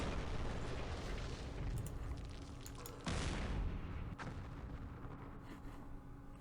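Tanks fire in the war game Campaign Series Middle East, with heavy booming blasts and rumbling explosions, one sharp burst standing out amid a dense, continuous barrage.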